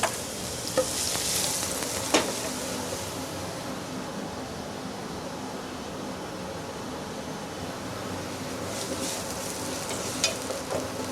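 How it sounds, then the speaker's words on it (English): Chopped onion wilts in a sauté pan beside mushrooms cooking in butter, giving a steady, close sizzle and frying hiss with a few light utensil clinks near the start and end. "While the mushrooms cook, a chopped onion is wilted."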